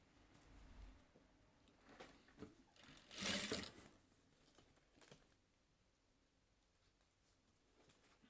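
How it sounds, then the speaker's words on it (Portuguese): A sewing machine stitches slowly along the edge of bias binding, sounding as a faint patter of short bursts with one louder whirring run in the middle and quiet gaps between. "Encaixo aqui e vou costurar bem da bordinha."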